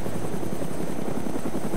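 A helicopter in the video game DayZ spins up, its rotor giving a steady, loud, continuous thump and whine with a rhythmic chop running throughout, heard alone without voices.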